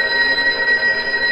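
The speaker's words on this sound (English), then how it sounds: "And the phone's ringing, of course." A telephone rings steadily in the 1947-set game Loretta, a bright, continuous electronic-style bell tone sustained at moderate loudness with no voices over it.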